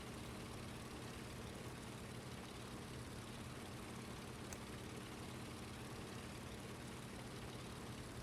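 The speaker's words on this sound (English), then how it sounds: "And the engine is still spinning" The engine of a Dornier Do J Whale flying boat idles in Microsoft Flight Simulator 2020, a faint, steady low drone that holds evenly throughout with no voices.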